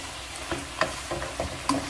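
Pork liver and meat fry in a pan for igado, giving a close, steady sizzle with crackling pops scattered throughout.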